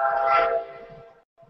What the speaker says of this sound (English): There's a train nearby.